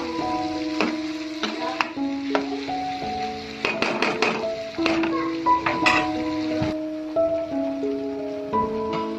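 Chicken curry being stirred in a pot, village style: repeated scraping and clanks of a spoon against the metal pot over a steady sizzle, close and fairly loud.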